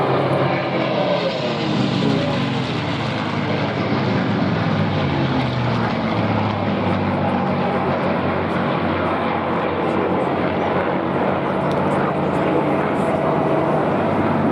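A silver and blue P-51 Mustang propeller fighter roars overhead at the 2015 Duxford Flying Legends air show, its loud, continuous engine drone filling the whole stretch and swelling slightly as it passes.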